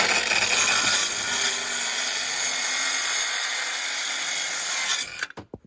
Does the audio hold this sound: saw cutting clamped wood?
yes